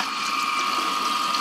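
A sump pump in a basement dual-pump setup pushes water out with a steady, continuous mechanical hum and a faint whine, loud and close, no voices.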